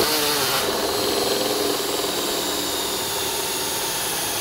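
A powerful power drill bores through holes in a plastic piece while building an airbrush kit, giving a loud, steady, high-pitched whine that holds unbroken from start to finish.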